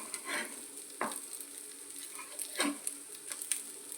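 Potato and snake gourd fry being stirred and flipped in a pan, soft scraping strokes and light clatter over a steady faint sizzle, close and without talk.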